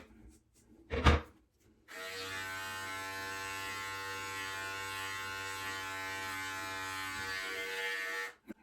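An electric beard clipper fitted with a number 6 guard (three-quarters of an inch) switches on after a short knock and buzzes steadily for about six seconds as it trims a beard. The drone is close and uninterrupted, then cuts off abruptly.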